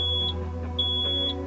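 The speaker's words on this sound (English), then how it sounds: "If you drive the truck for more than half an hour in turbo mode, you will hear a buzzer sound thrice" A Mahindra truck's cabin buzzer warning after extended turbo-mode driving, sounding as sharp electronic beeps, close and clear over a steady low engine hum.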